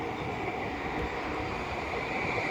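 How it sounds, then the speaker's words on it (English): An Edinburgh tram heading for the airport passes at Edinburgh Park, giving a steady, even rush of rolling noise at moderate distance with no break. "And there goes another tram to the airport."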